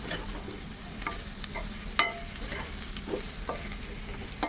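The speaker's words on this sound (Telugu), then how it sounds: "ఇలా గుడ్లు పట్టే విధంగా కలుపుకోవాలండి మనం" Eggs frying in a pan with garlic and chili powder over a medium flame, stirred steadily: a continuous close sizzle broken by scraping spatula strokes and a few sharper clicks against the pan, with no voices.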